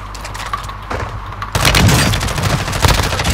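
Gunfire in the video game Call of Duty Warzone, with a quieter stretch giving way to a loud, continuous burst of shots and booming impacts in the second half.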